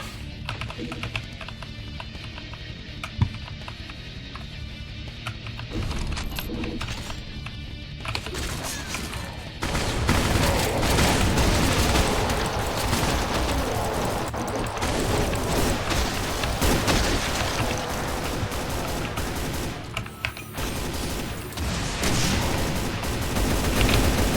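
Dense, loud Brutal Doom combat on Ultra-Violence with fast monsters: enemy shotgun blasts and crashing impacts pile up continuously, getting louder and busier after the first ten seconds, with no talk.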